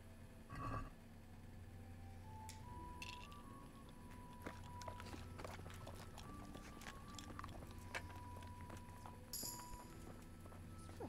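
Horse in the medieval video game Kingdom Come Deliverance, with steady hoof clip-clops and shuffling over a constant low ambient drone, a soft snort early on and small chewing-like noises.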